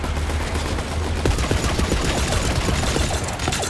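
Constant loud gunfire fills a Borderlands 3 battle, with rapid overlapping shots and automatic bursts that crackle without a break.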